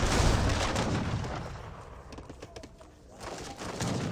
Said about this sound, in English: Heavy cannons.